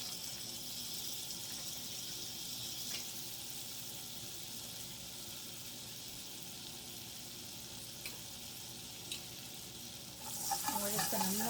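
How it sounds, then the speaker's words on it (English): Butter melting in a pan ahead of sausage gravy, giving a steady soft sizzle and hiss that holds evenly throughout, with a brief clatter and a bubbling swell near the end. "And we're just going to melt that in there."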